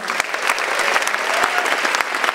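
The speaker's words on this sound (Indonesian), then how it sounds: "Coba kasih tepuk tangan untuk istri saya tercinta." An audience at an Indonesian stand-up comedy show breaks into steady, dense applause that runs continuously and evenly at moderate loudness throughout, with no voice over it.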